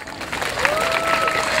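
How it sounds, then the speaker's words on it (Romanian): Children in an audience applaud at a festive celebration, a steady wash of clapping that holds throughout, with a faint tonal note sounding above it. "Fiți mai darnici la aplauze, haideți!"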